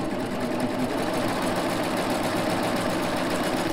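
A serger sews a rolled hem on knit fabric at slow speed, giving a steady, close, continuous mechanical whir with a fine rapid stitching rhythm and no talking.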